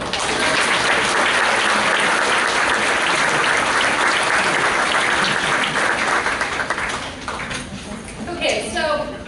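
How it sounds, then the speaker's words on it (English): Loud, sustained applause from a school crowd at a Veteran's Day assembly, honoring veterans' family members, dense clapping that fills the room and then tapers off toward the end. "now let's give them a round of applause"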